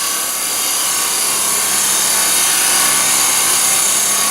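A wood lathe spins a lidded ring box blank at about 2,000 RPM, giving a loud, steady broadband whir and hiss that holds constant throughout with no talking.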